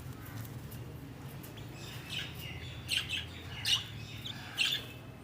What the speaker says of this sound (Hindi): ये हमारे बटेर हैं